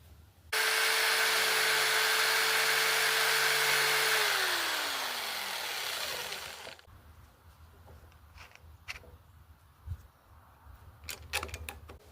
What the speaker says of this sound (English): after drilling holes and then using my jigsaw, that's what I got